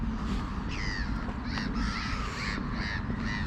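Several crows caw in repeated harsh bursts over steady low background rumble, the calls moderately near and spaced across the stretch with no talking.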